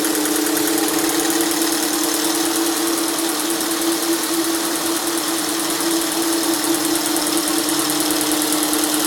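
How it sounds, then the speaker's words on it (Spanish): A motor driven at 300 RPM from a frequency drive, turning a camshaft spring test rig at 600 RPM, producing a loud, steady mechanical hum with a constant tonal whine and fine rapid clatter, uninterrupted and close. "10 hercios en el motor corresponde a 300 RPM y en el árbol de levas a 600 RPM."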